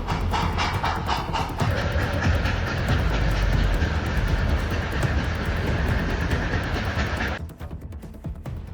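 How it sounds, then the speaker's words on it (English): A loud, dense rumble of a heavy high-pressure steam locomotive rolling on rails, with hissing and rhythmic clatter throughout, dropping off abruptly near the end. "a classic high-pressure steam locomotive weighing hundreds of tons to power its way down the tracks"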